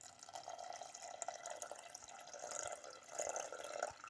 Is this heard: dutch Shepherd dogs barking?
no